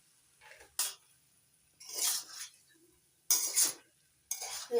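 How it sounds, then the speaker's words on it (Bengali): A drumstick flower dish is stirred in a pan after raw mustard oil is added: four separate bursts of close scraping and utensil clinks, with quiet pauses between them and no talk. "কাঁচা তেল দিয়ে নাড়াচাড়া করে নামিয়ে দিই"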